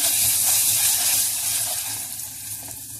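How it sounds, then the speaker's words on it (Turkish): Boiled water hits toasted star-shaped vermicelli in a hot pot, giving a loud burst of hissing sizzle and steam that gradually fades over a few seconds. "kase kaynamış suyumu ilave ediyorum"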